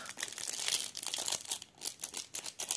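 Small plastic packaging crinkles and rustles close up as a thread cutter from a cross-stitch kit is unwrapped, a quick run of crackling bursts with short pauses.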